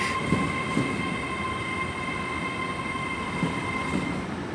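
A Class 800 train, unit 800/307 on a terminating service from Taunton, runs into platform 5 at London Paddington station, giving a steady rumbling rail drone with faint rhythmic wheel clicks and a sustained tonal hum, no talk.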